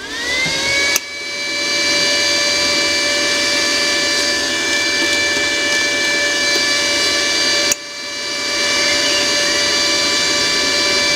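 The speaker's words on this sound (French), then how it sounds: "C'est le moteur qui galère un peu, en fait." The wire feed motor of a Lidl Parkside PMSG 200 A1 MIG/MAG welder strains while pushing welding wire, a loud steady whirring drone with a high tonal whine, briefly cutting out twice and spinning back up.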